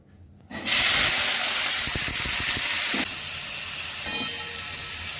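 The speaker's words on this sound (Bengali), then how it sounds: "তা প্রথমেই আমি ফুলকপিটা ভেজে দিচ্ছি।" Cauliflower drops into hot oil and fries for a prawn and cauliflower curry, a sudden loud hiss that settles into a steady, strong sizzle with faint crackles.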